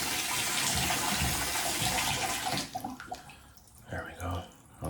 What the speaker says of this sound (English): Forgot to close the sink. Oh, it's running.